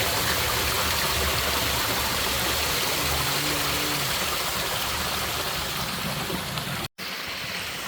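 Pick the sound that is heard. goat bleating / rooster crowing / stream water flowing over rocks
stream water flowing over rocks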